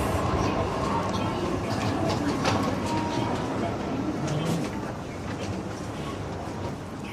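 Steady rumble of a Japanese train running from Tokyo to Yamagata, a continuous broadband interior roar lasting throughout, with a voice talking over it.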